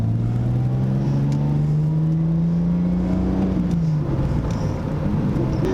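A Toyota Supra MK2 drives along a road, its engine note humming steadily and rising as it accelerates, then easing off near the end, heard from inside the car with no talking.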